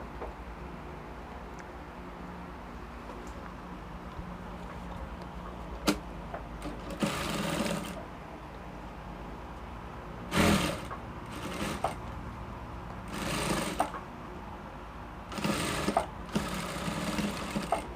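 A sewing machine runs in several short bursts while stitching a puff sleeve with lace borders to a bodice armhole, its whirring stitches close and clear against a quiet room hum, with pauses between runs.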